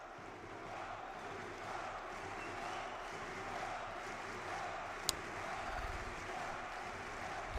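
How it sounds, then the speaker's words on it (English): A large esports audience fills the Mayo Arena during a Counter-Strike grand final at BLAST Lisbon, its steady roar sustained and reverberant throughout, with one brief sharp click partway through. "This crowd reverberates throughout the Mayo Arena."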